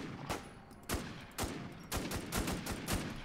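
Gunfire in the zombie survival game Infestation: Survivor Stories, with about seven sharp shots cracking out at irregular intervals of roughly half a second, loud and close, with no talking over them.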